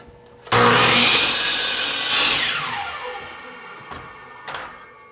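A miter saw trims the good end off a wood board, a loud burst of whining cut that winds down after a couple of seconds, then a few sharp knocks follow.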